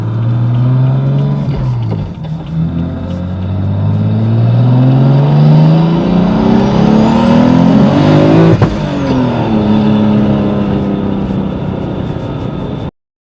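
A single-turbo car accelerating hard through the gears, loud engine revs climbing in pitch with a shift dip near two seconds and another near eight and a half, heard from inside the car.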